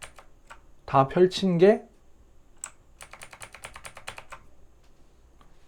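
Computer keys are pressed in short clicks, a few single taps followed by a rapid run of keystrokes during a software training session; a person speaks briefly between the early taps.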